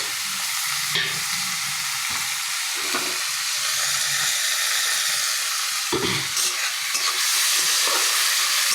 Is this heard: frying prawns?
yes